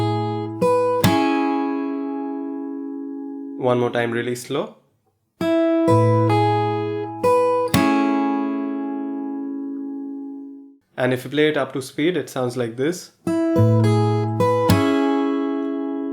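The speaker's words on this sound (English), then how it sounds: "you make this slapping sound by hitting your thumb on the lower strings to get that percussive sound" A fingerstyle acoustic guitar plays a song part, with sharp percussive thumb slaps on the low strings and ringing nail-struck chords, first slowly and then up to speed, with a person talking between the phrases.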